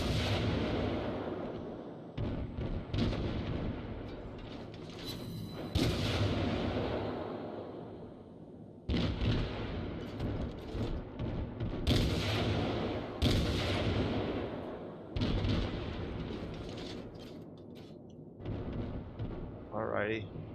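Warship guns fire in the World of Warships video game as repeated heavy booms and blasts, some in quick pairs, over a dense rumbling background, with someone talking at times.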